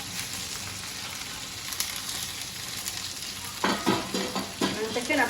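Okra curry with yogurt and salt being stirred by swirling the pot itself, a soft steady sizzle of frying with scraping, sloshing bursts of louder stirring near the end.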